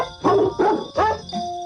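Dogs bark the tune of Jingle Bells in a Christmas novelty recording, a series of tuned, pitched barks in a bouncy melodic rhythm, loud and clear with no voices.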